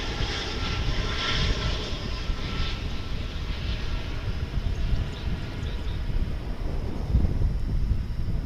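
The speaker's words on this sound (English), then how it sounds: "an American Airlines flight coming in from San Luis Potosi in Mexico" An American Airlines airliner arriving at Dallas/Fort Worth International Airport, a steady loud roar of jet engines with a broad rumbling wash and some wind buffeting, sustained and close with no talking.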